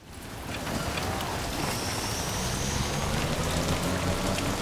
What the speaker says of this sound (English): Good thing it's all rainy.